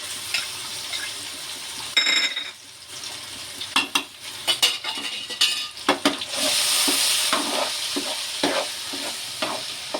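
Green chili paste frying in a pan, with steady broadband sizzling throughout, broken by sharp stirring scrapes and clatter, louder and busier in the second half.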